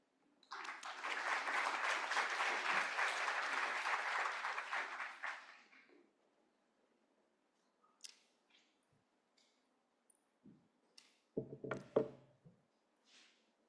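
An audience claps for a keynote speaker at a general meeting, a dense burst of applause lasting about five seconds and then fading, followed by scattered small clicks and shuffling in a quiet hall.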